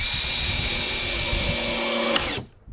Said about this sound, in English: So we're going to put 2 of our 1 1/4 inch screws in each end.